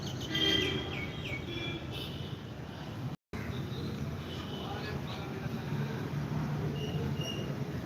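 A bird calls in short chirping phrases, fairly close, over a steady background hum, with a brief dropout midway and muffled talk in places.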